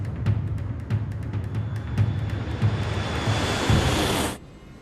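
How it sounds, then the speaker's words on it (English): Airliner engines building to takeoff thrust for a Germanwings departure on runway 07 right: a loud, steady jet roar with a rising high whine and faint periodic thumps, cutting off abruptly near the end. "Takeoff thrust."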